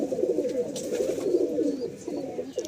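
Tedy pigeons cooing steadily in low, throaty rolling calls, close and continuous throughout, with no talking.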